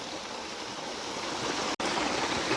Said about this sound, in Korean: 자, 폭포 구경을 했으니까